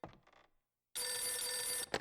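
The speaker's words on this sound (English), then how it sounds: "there's a phone ringing" Telephone bell ringing in the Galerians video game, a loud sustained electronic ring lasting about a second after a brief earlier burst and a short silence, with the ring starting again at the end.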